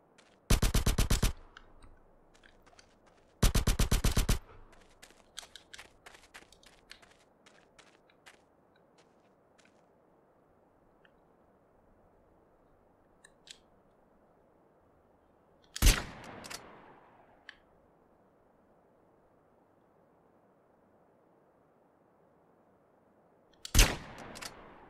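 Gunfire in the video game GTA San Andreas comes as two rapid automatic bursts early on, then sparse single shots and two later sharp blasts, with quiet stretches between and no talk.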